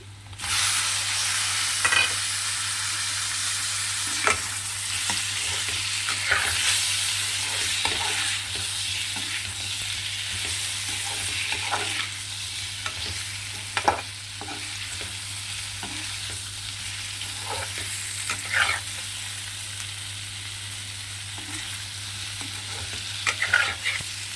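Potato pieces fry steadily in a hot pan, with a dense continuous sizzle and frequent scraping, clattering stirs spread throughout. Close and fairly loud, with a low electrical hum underneath and no voices.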